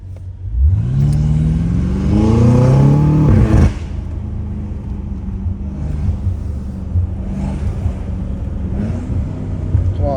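Loud revving from a straight-piped BMW M5 Competition, heard up close from inside the car: a rising roar that swells for about three seconds, cuts off sharply, then settles into a lower steady drone with a faint burble.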